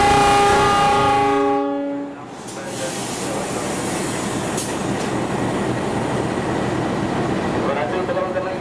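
The KA Bima passenger train heading to Cipinang depot sounds a loud sustained horn, then rolls past as a close, continuous rumble and clatter of wheels on rails.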